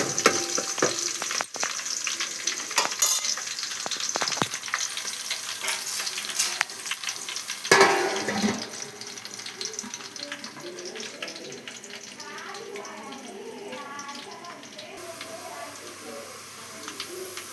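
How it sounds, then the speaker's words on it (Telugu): Onions frying in a pan for mutton curry sizzle loudly and steadily, with repeated scraping stirs near the start and around the middle before the hiss settles to a continuous sizzle. "ఉల్లిగడ్డలు అయితే ఎర్రగా వేగినాయి."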